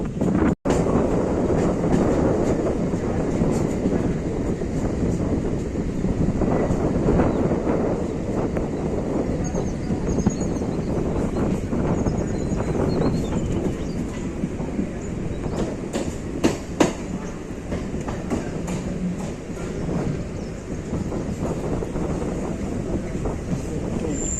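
A train rumbles along the rails continuously through a military depot, with steady clattering and wind buffeting the microphone throughout.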